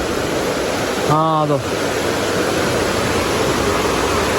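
A river near a campsite rushes in a steady broadband wash, loud and continuous throughout, with a voice briefly speaking over it near the start.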